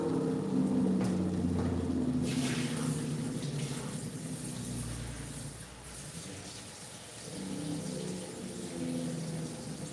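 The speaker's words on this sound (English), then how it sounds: "I'm going to add some water inside." Water poured steadily into a cooking pot of jollof rice with pepper already in it, a continuous close splashing rush that fades a little midway before swelling again, with no voices.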